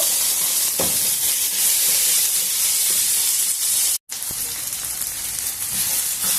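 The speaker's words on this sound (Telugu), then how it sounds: "అల్లం వెల్లుల్లి పేస్ట్ పచ్చివాసన పోయేంత వరకు వేయించుకున్నాము" Ginger garlic paste fries in a pan of oil while cooking capsicum rice, giving a loud, steady, close sizzling hiss with a brief cutout partway through and no voices.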